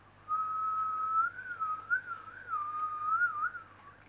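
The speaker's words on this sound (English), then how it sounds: "Yes, I can whistle." A single person whistles a wavering, continuous tune for several seconds, clear and close, with no talking.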